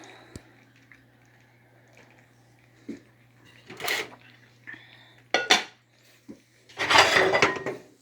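Rice is mixed with meat, mushroom and shallot in a dish, heard as scattered close scrapes, clinks and soft squishy stirring between quiet stretches.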